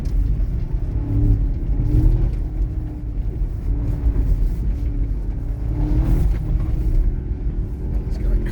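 A Škoda Octavia drives on a slippery surface while finding grip, a steady loud engine rumble and road noise with mild surges in revving throughout, recorded from inside the car.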